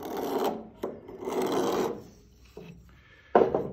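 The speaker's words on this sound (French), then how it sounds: "je vais débiter ça à la scie, hein, je vais le chantourner" Hand saw rasping through particleboard in close, loud strokes: several long back-and-forth cuts separated by brief pauses, ending with a short sharp burst.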